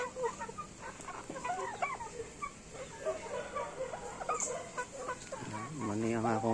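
Several graded chickens clucking in a small backyard, with rhythmic clucks and a brief louder squawk near the end, over faint background noise and occasional distant voices.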